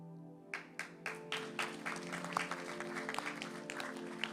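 An audience at a royal keynote on heritage breaks into applause, starting with a few distinct claps that quickly build into steady, moderately distant clapping.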